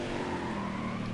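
A race car in NASCAR Heat 5 braking into a corner, its engine drone steady and close with a sustained tonal whine and no voices over it.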